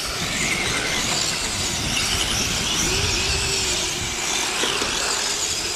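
Radio-controlled model cars race around a club track in the Iconic Cup series, giving a continuous high-pitched electric whine with tyre squeals and a short rising note as a car passes close.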